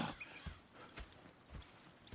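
Horses in Red Dead Redemption 2 at a camp, hooves clip-clopping at a slow walk in a few soft, scattered thuds close by, with no talk over them.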